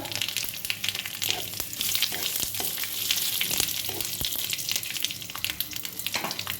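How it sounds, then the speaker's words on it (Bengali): Bay leaves dropped into hot oil in a home kitchen for a Bengali shukto, a steady close crackling sizzle with bursts of spitting and occasional stirring clicks, no talking. "দেবো তেজপাতা,"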